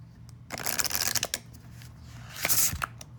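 Soft, flimsy, slightly glossy oracle cards are shuffled by hand close up, giving a few quick riffling bursts with short pauses between them.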